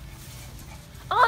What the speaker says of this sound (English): Oh, it's such a cute dog.